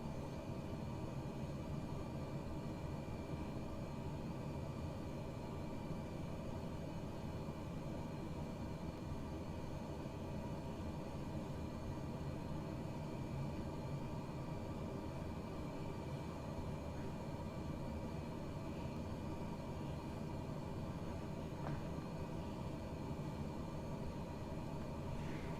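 An aircraft engine drones steadily with wind noise in Microsoft Flight Simulator 2020 during a crosswind approach, a faint, constant broadband hum with no clear changes throughout.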